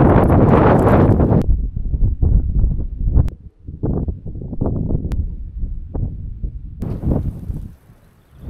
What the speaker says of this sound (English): Wind is still howling